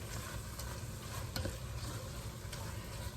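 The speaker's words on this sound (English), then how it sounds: "And give it a good stir." A pot of crawfish etouffee simmers over medium heat, a low bubbling sizzle under soft scraping as it is stirred, with a few light knocks of the spoon.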